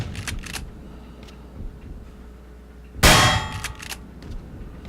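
A single sharp metallic clang rings out as a small blade is shot in The Suffering video game, loud and sudden after quieter clicks and ambient rumble, then fading.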